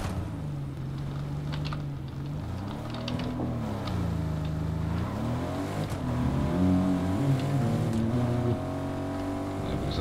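A car in the Fortnite video game drives along with a continuous engine drone whose pitch rises and falls as it speeds up and eases off, steady and close throughout.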